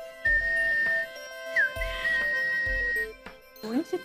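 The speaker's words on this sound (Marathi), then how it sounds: "हा, पोपट शिट्टी आहे बघी कशी." A parrot-call toy whistle gives bright held tones and a short rising chirp, close by, with dull low thumps and a voice speaking between blows.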